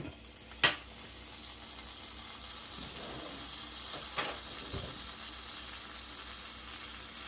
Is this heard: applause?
no